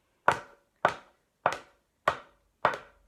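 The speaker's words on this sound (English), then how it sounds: "I'm going to put them on this chopping board, and we're just going to see how they sound. So I'm going to do just some walking" Five evenly spaced, crisp footsteps from hard-soled shoes walking on a wooden chopping board, each a sharp close knock with a short decay, no talking.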